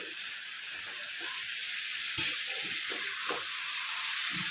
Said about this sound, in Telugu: వేగుతూ ఉన్నాయండి ముక్కలు, ఉల్లిపాయ